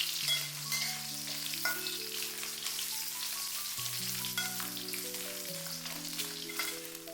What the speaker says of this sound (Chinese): 油热之后下入五花肉，开小火把五花肉炒出香味，炒出多余的油脂。